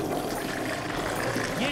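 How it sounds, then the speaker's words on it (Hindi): Toilet flushing aboard a train in a children's cartoon, a brief loud rushing, gurgling whoosh of water that stays dense and noisy throughout. "ये टॉयलेट फ्लश की आवाज है।"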